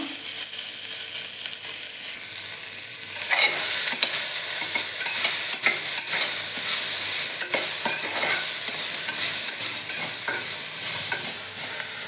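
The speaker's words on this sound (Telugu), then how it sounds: "ఒక ఐదు నిమిషాలు బాగా వేయించుకోవాలి" Cluster beans stir-fried in a pan over medium flame, with a bright, close sizzle that swells after a few seconds and repeated scraping stir strokes running throughout.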